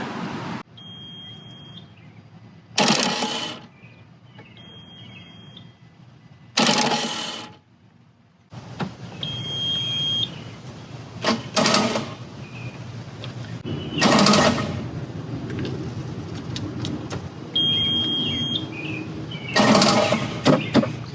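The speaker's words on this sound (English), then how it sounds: "every time I would turn the key on, it would just rapid fire the starter solenoid without even trying to turn it to start" A mini excavator's starter solenoid rapid-fires when the key is turned on, failing to crank the dead machine; repeated bursts of fast, loud clicking come and go, with short electronic beeps between them.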